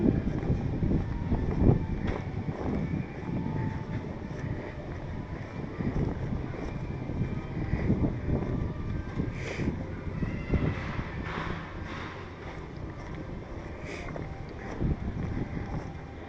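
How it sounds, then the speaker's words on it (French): Wind gusting outdoors near Mulhouse, buffeting the microphone with loud, uneven low rumbles that rise and fall across the whole stretch, with no one talking. "Il y a un peu de vent."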